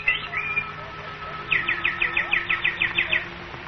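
Bird chirps and a quick run of repeated tweets in a radio horror drama, fairly close and clear over a quiet background hum.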